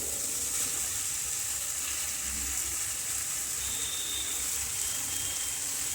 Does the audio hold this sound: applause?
no